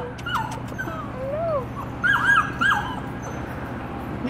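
A puppy whimpers and whines in several thin, rising and falling cries, close by over a steady low background hum.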